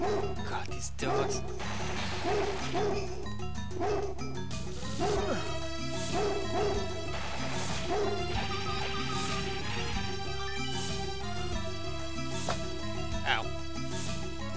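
Barking dogs in the arcade shooter Metal Slug X, sharp yips scattered through busy game music and weapon effects.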